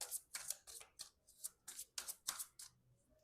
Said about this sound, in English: we will shuffle 3 cards from the Oracle of Fairies first